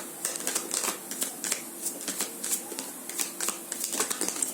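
Tarot cards being shuffled by hand, producing a steady run of soft, close riffling flutters and light taps with no talking.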